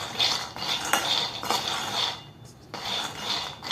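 Peanuts dry-roasted in a pan for poha and dry-fruit laddoos are stirred with a metal spoon, giving repeated scraping clinks and rattles against the pan in steady strokes, with one short pause.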